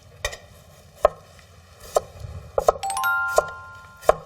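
A knife slices cucumber on a cutting board, about six sharp, separate chops at an irregular pace, close and clear, with a faint tonal ring under the later strokes and no talking.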